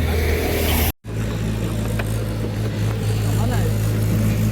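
Car engine idling and running after being started, a low steady drone with road and cabin noise, following a short cut of silence near the start.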